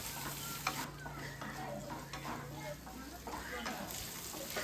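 Onion and green chillies frying in a pan, a soft, fairly faint sizzle with gentle stirring scrapes over a low steady hum.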